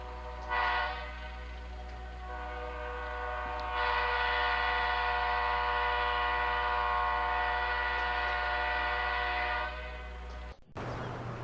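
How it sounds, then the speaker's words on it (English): A distant MSRL special train sounds a long, steady horn, sustained for about ten seconds with a brief earlier blast, over a constant low rumble, then cuts off. "A train horn has been heard off the distance and it caught our attention"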